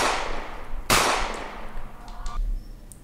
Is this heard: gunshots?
yes